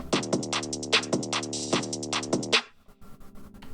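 A drum loop with 808 bass builds in a quick steady pattern, then cuts out abruptly after a snare hit, leaving a brief near-silent gap with faint residual noise.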